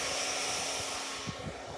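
A hair dryer runs with a steady, loud broadband whoosh and hum, continuous throughout and alone with no talk.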